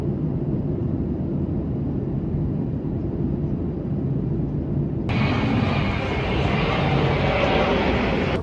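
Steady, loud broadband engine roar from inside an airliner cabin, a constant low rumble with airflow hiss that brightens partway through, with no clear talking.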